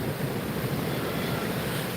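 Ocean waves wash steadily onto a beach, a continuous broad rushing surf mixed with wind buffeting the microphone, loud and close with no speech.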